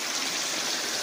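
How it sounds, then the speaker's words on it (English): Water poured into a pot of stewing chicken, a brief steady splashing stream with no pauses. "add a little water and"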